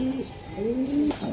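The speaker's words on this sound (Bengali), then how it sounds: "আমি আরেক জোড়া কবুতর দেখাই দেই ভাই" Racing pigeons coo up close in a loft, giving two or three soft, low, rolling coos with a rising-falling swoop, clear and unmasked, no speech.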